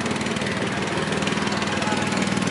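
Homemade tractor engine running steadily up close, a loud, even, rapid putter like a small lawn mower motor with constant vibration and no pauses.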